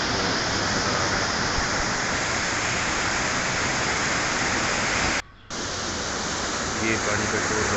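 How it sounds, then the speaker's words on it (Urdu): Roaring floodwater of the Nowshera river rushing under the Kashti bridge during a flood, a loud, dense, continuous broadband roar close by, with a brief dropout near the end. "یہ پانی کا شور ذرا سنیں، کتنی زیادہ پریشر ہے، کتنی زیادہ اسپیڈ میں جا رہا ہے پانی۔"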